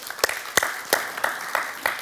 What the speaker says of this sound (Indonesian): Berikan tepuk tangan untuk Tuhan Yesus.